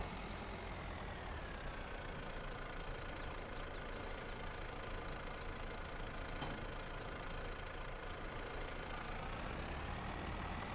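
An old, worn tractor engine idles steadily on a farm, giving a continuous low mechanical rumble at an even level throughout, with no talking.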